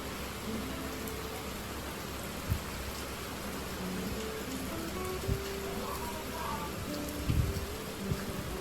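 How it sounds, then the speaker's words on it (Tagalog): Steady heavy typhoon rain hisses across the whole scene, with a few louder thumps and drips standing out against the constant downpour. "medyo lumalakas na yung ano, hangin and then yung ulan"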